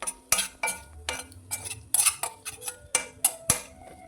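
Egg fry masala being stirred in a pan, a metal spoon scraping and clinking against the pan in an irregular rhythm of about a dozen sharp knocks, close and fairly quiet, with no talking.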